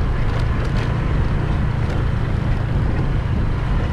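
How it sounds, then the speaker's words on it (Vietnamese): Strong wind buffets the microphone outdoors in a large garden, a continuous loud rumbling roar with no pauses. "Này gió to quá anh em ạ."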